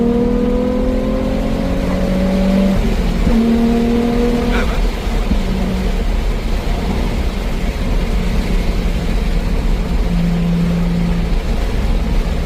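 A Nissan 350Z's V6 engine revs in rising pulls, its pitch climbing and dropping repeatedly over a steady rumble, with a voice briefly speaking underneath.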